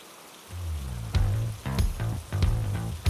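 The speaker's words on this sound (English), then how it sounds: "Pouring down rain." Heavy rain pours down on a race track during a track day with a modified EK Civic, a continuous loud hiss of falling water with sharper splashing bursts and thumps scattered through.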